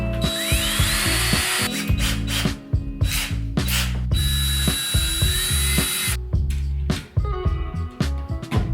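A power drill bores holes into wood at marked spots, loud close whirring bursts that start and stop repeatedly, with short gaps and grinding friction between them.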